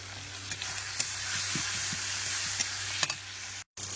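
Spice paste fries with bay leaves while a spatula stirs it, giving a continuous hissing sizzle punctuated by light scrapes and taps, close and moderately quiet, with a brief cut near the end and no talking.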